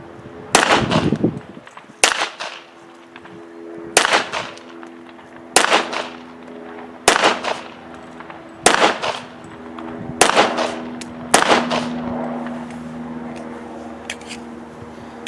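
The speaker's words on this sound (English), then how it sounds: "I got one more mag here, so let's go ahead and shoot it." Sig 1911 Emperor Scorpion pistol fired at a range, eight sharp, loud shots spaced roughly one to two seconds apart, each with a short ringing echo, no talking.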